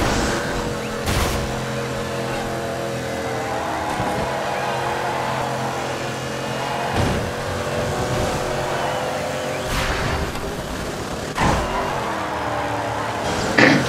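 Race car engines roar continuously in Dirt Showdown's Pro Tour coastal race-off, several cars revving and shifting at close range with occasional sharper surges and bumps.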